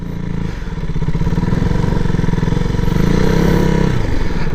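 A KTM RC200 BS4 sport motorcycle's engine, loud and close, rising from idle into a steady revving drone as the ride gets under way, with no speech.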